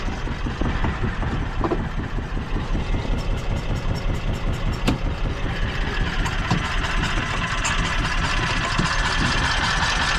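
A Toro Workman utility vehicle engine runs steadily at close range, a dense, continuous mechanical drone with rapid firing pulses and vibration that holds throughout, with no talk over it.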